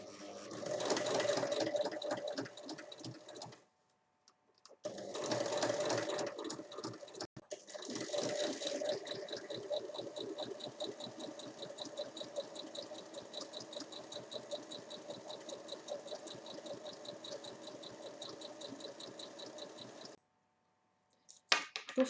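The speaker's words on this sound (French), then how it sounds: "il faut coudre juste à côté de la piqûre d'assemblage pour la cacher" A sewing machine stitches a fabric visor alongside an assembly seam, running in fast rhythmic whirring bursts with short pauses between runs, close and steady, no talking.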